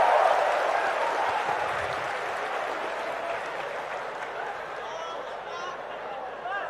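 An audience at an Islamic lecture seminar at a Yogyakarta university claps together in sustained, dense applause that fades gradually but stays continuous throughout, filling the hall.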